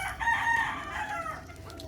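Gamefowl chickens, including hens, clucking and crowing close by, a steady, busy chorus of fowl calls with no talking.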